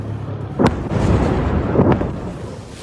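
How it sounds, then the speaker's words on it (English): Explosions from Israeli strikes in Katana, Syria, heard in news footage as two sharp blasts followed by a loud, rolling low rumble, heavy and booming with no voices over it. "this was the scene from Katana a few hours ago, showing the latest Israeli strikes"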